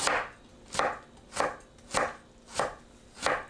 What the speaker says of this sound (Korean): 당근을 너무 두껍지 않게 채 썰어주세요.